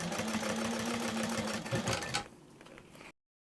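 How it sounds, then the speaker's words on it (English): A sewing machine runs a fast, steady stitch along the edge of a backpack strap for about two seconds, then stops and leaves quiet handling noise. "We're going to stitch this in place, making sure that the edge of our back strap here is being sewn down at an 1/8 of an inch."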